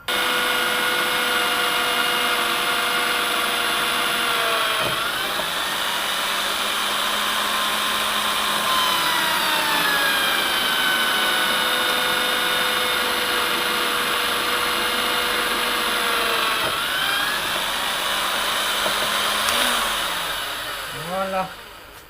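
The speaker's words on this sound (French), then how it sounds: "je vais venir marquer les axes de perçage pour le manche" Power drill boring handle holes through the flat tang of a steel knife blade, a steady whine running throughout with pitch dips as the bit bites and short pauses between holes, close and loud.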